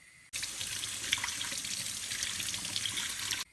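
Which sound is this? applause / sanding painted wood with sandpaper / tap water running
tap water running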